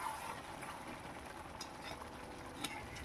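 Doi chicken, cooked in yogurt without water, being stirred in a pot, giving a soft continuous scraping stir over a faint sizzle, close and quiet with no talk.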